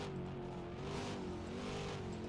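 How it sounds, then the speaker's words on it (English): 2024 ROX modified race cars rev their engines at Neshotah Speedway, a sustained throaty drone of several engines that holds steady, heard at a moderate distance with no talk. "Rev them up, rev them high."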